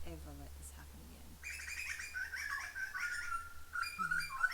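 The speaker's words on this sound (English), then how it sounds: "A little bird, little butcher bird." A butcher bird calls with a series of clear, musical whistled notes that repeat over a few seconds, heard fairly close and alone after a quiet start.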